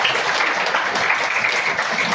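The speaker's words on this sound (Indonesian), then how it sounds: "Tepuk tangan buat kita." Audience applause at a Christmas church service, dense steady clapping from many hands filling the room, with some voices mixed in beneath.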